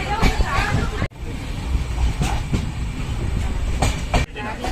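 Steady rumble of a train departing Kundapura station with rhythmic rail clatter, close by, a sharp dropout midway, and faint voices in the background.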